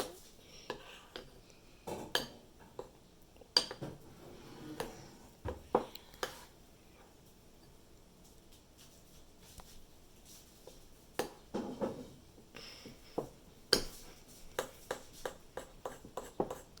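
Chocolate chips stirred into homemade pancake batter made without baking powder, baking soda or butter: irregular clinks and scrapes of a utensil against a bowl, in scattered bursts with quiet gaps.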